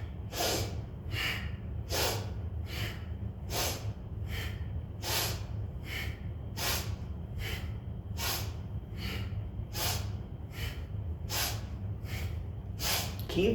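Rapid, forceful nasal exhales in a yoga breathing exercise, about sixteen sharp bursts in a steady quick rhythm, close and fairly loud over a low background hum.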